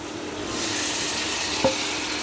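Mutton tipped into a pan of half-fried, softened onions, giving a steady close sizzle with stirring scrapes throughout and one brief clink near the end.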